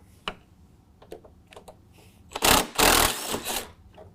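A power tool with an 8 mm socket backs out grille bolts on a Ford F-150, beginning with a few light ticks and clicks and then a loud whirring, ratcheting burst of about a second, close up.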